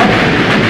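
A loud, dense game explosion sound effect triggered from a button in a Unity machine-learning demo, one continuous broadband roar filling the whole short moment with no talk.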